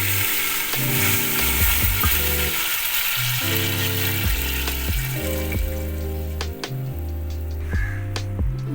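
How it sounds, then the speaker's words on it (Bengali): Boiling water goes into a pot of sizzling chicken for a chicken rice dish, giving a steady hiss and bubbling that sits beneath loud, continuous background music. "এতে ফুটন্ত জল দিয়ে দিলাম।"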